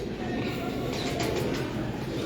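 Caged pigeons coo softly in a low, steady murmur, with voices talking over them throughout.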